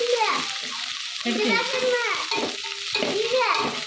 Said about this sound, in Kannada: ಈಗ ಈರುಳ್ಳಿನ ಚೆನ್ನಾಗಿ ಫ್ರೈ ಮಾಡ್ಕೊಳ್ಳೋಣ